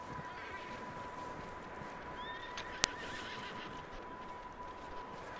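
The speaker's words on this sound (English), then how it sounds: "But I see that horse running." A wild horse in the Red Dead Redemption 2 game neighs briefly amid a constant rumble of hoofbeats and outdoor game ambience, with one sharp click partway through.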